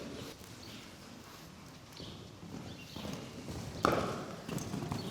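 Hooves of a horse in a riding lesson thud in a steady clip-clop rhythm on the arena footing, moderately close and fairly soft against background noise, with no talk.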